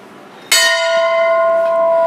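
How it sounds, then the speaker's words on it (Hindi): Large bells at a Hindu Shiva-Durga temple in Sardhana, Meerut, struck once, giving a loud, bright clang that rings on with a long, steady sustained tone. "ये घंटे हैं, यानी घंटियाँ बात करें काफ़ी बड़े बड़े हैं।"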